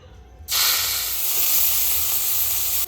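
Banana flower dropped into hot oil already used for frying peanuts bursts into a loud, steady sizzle after a brief quiet start, hissing continuously until it cuts off near the end.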